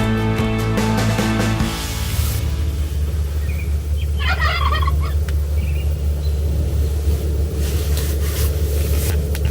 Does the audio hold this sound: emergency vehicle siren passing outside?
no